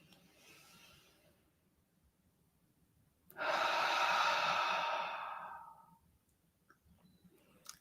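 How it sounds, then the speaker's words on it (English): One slow, deep breath during a guided meditation for managing pain and illness: a soft, airy exhale that swells for a few seconds and then fades, close and quiet, with no talking. "Let the next in breath flow back in its own time."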